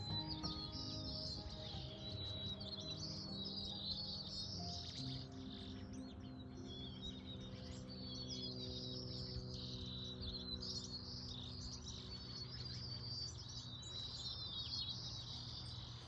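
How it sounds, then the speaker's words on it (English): Birds chirp and sing steadily outdoors, bright calls overlapping against a soft background hum and a faint insect trill. "let's just pause for a moment and listen to the birds"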